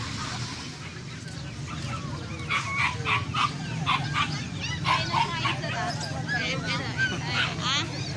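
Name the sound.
chickens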